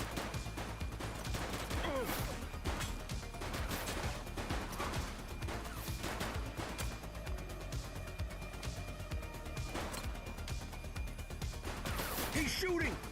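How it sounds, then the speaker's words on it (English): Gunfire in the police game The Precinct, dense bursts of shots and crashes running throughout alongside voices and other game action, loud and busy. "He's shooting!"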